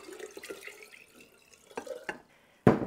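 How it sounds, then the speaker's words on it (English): Sugar water poured over water kefir grains in a kitchen, a soft, steady trickle and splash that fades, followed by a sudden louder splash or knock at the end. "I am going to go ahead and pour this on top of my grains."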